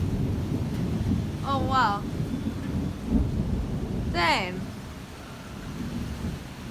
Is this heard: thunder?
yes